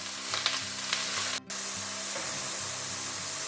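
Mushrooms frying in a hot pan for garlic mushrooms, a steady close sizzle and hiss with faint stirring scrapes, briefly cut out for an instant partway through.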